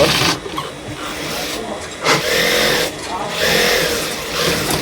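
A sewing machine stitches fabric for a mini-coolie palazzo salwar, its mechanical whir running in bursts with short pauses, close and fairly loud, while a person talks over it.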